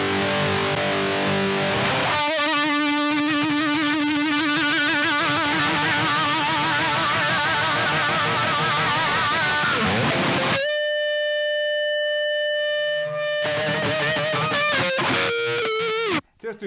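Electric guitar run through a boost pedal for extra sustain on a hard rock rig, loud distorted chords and riffs ringing out, then a long sustained note and a few more phrases, played alone.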